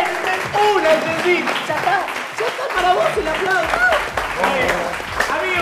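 A television studio audience claps steadily throughout, while voices talk and cheer loudly over the applause.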